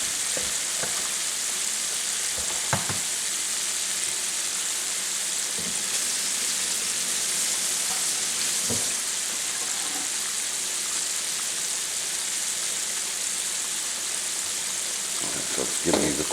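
Southern Creole-style shrimp frying in a pan, a constant close, loud sizzling hiss that runs throughout, broken by a few brief stirring knocks and clinks.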